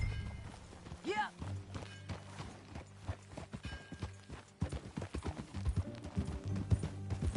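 Rhythmic clip-clop of horse hooves during a ride in the video game Red Dead Redemption 2, with steady trotting beats, a brief whinny near the start, and character voices talking over the hoofbeats.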